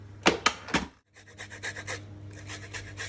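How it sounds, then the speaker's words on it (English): Half a lemon is grated for honey buns, making a close, dry rasping scrape in quick repeated strokes: three sharp strokes, a short pause, then a steadier run of softer scraping. "going to grate half a lemon to go in there as well"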